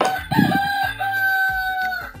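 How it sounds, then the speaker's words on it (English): A toy rooster plays an electronic cock-a-doodle-doo crow, one loud, close, tonal call that holds for about two seconds. "Hey, rooster, he says cock-a-doodle-doo."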